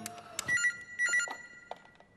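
A telephone rings in two short electronic bursts over a faint background, with clicks and rustling between the rings and no voices.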